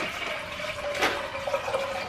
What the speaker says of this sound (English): He's filling up some water over here.